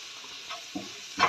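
Onions fried until soft for a masala sandwich, with basic ground spices stirred in: a few brief scraping stirs and a soft sizzle, close and fairly quiet, no voices.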